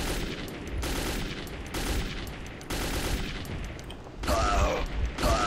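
Gunfire in the video game Metro 2033, rapid bursts of shots and mechanical clatter in close, loud succession, growing heavier near the end.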